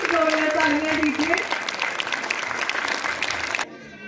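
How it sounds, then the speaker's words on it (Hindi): Audience applause fills a charity foundation's first annual function, steady clapping under a speaking voice at first, then fading toward a quieter end. "अगर ऐसा नहीं है तो प्लीज जोरदार तालियां दीजिए"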